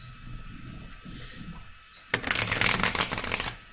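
A deck of tarot cards is riffle-shuffled up close during a live card reading, a loud dense burst of flapping card noise after a stretch of quiet background murmur.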